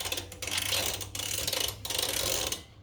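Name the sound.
ratchet loosening axle nut on Harley motorcycle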